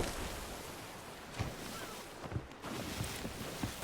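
Continuous wash of ocean waves and surf in a video game, a broad steady roar with a few soft splashes and bumps, close and fairly loud, with no talk.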